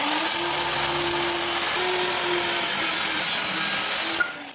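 A SKIL SPT77W-01 worm drive circular saw cuts through treated lumber, a steady loud whine under load with a faint hum beneath, running continuously before tapering off at the end.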